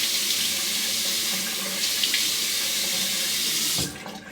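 Bathroom tap running into a sink to wet the face before a wet shave, a loud, close, steady gush of water that cuts off near the end.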